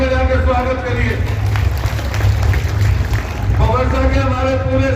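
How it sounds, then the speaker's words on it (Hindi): An audience claps to welcome a guest onto the stage at a local public event in Meerut, a dense, continuous wash of applause running beneath someone speaking over a microphone. "से ताली बजा के स्वागत करिए।"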